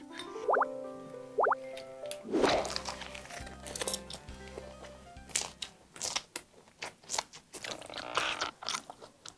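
Lettuce wrapped around yellowtail sashimi is bitten and chewed up close, with crisp crunches followed by wet, rhythmic chewing; a few short tonal beeps sound at the start.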